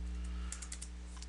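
Someone types on a computer keyboard, a short run of light, close, irregular key clicks over a steady low hum.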